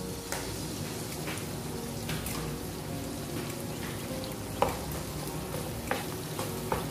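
Seasoned beefsteak and vegetables sizzle steadily in a pan while a utensil stirs through them, giving soft scrapes and occasional sharp clinks against the metal.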